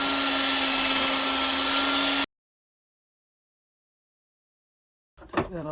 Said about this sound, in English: I got a little flapper wheel on a drill. I'm gonna try to clean these holes